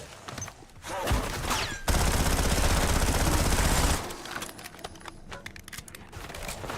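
PPSh submachine gun fire in a tomb-themed video game, a loud sustained burst of rapid automatic shots lasting about two seconds amid scattered game effects before and after.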